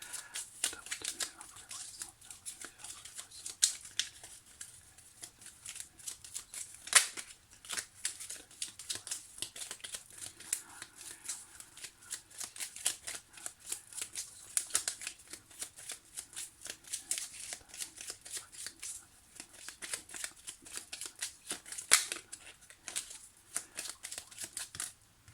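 Tarot cards are shuffled by hand for a monthly reading, a soft continuous riffle and slide of cards close up, with intermittent sharper flicks and no speech.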